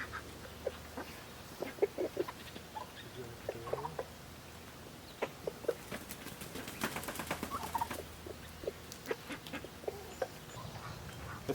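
Chickens cluck repeatedly on a farm pasture, with turkeys and ducks kept nearby; the short, uneven clucks are close and fairly loud, bunched most densely in the middle of the stretch.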